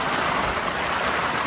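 Heavy rain pours down at a carp fishery, a dense, steady hiss of drops hitting the surface up close, with no speech.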